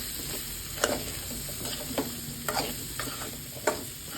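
Baby potatoes and onions fry in a pan on low flame, a soft steady sizzle broken by several distinct spatula scrapes and taps at irregular intervals.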